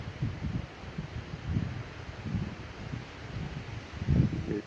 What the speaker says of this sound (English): Once in a while you just get a huge gust.